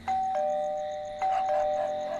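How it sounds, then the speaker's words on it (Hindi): A doorbell rings twice with bright electronic ding-dong chimes, loud and close. Each tone fades slowly before the next press. "कई बार घंटी बजाई पर उसके पति ने दरवाजा नहीं खोला।"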